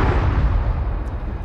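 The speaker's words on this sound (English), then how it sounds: "That's a big explosion." Big explosion in the 2016 PS4 video game Ratchet & Clank, a loud, deep, rumbling blast with heavy low-end boom that rolls on and slowly fades over a second and a half.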